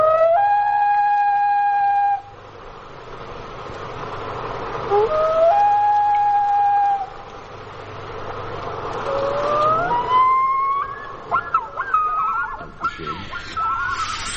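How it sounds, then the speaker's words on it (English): Long, eerie wailing calls of a great northern diver with rising, sliding whistled notes, repeated over a soft background hiss. "It's the song of the great northern diver."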